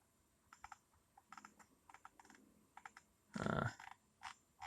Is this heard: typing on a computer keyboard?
yes